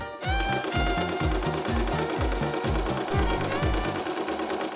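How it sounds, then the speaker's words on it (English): A sewing machine stitches handles onto a homemade carrying bag, running loud and close with a fast, steady mechanical chug of repeated needle strokes throughout. "I sewed on the handles."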